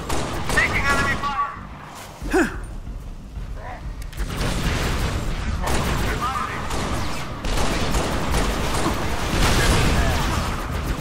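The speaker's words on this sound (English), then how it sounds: "Taking enemy fire!" Enemy gunfire crackles in Halo: Reach during a nighttime co-op mission, with repeated loud bursts of automatic fire and booms near and far, nearly continuous across the stretch, with a player's voice talking over it.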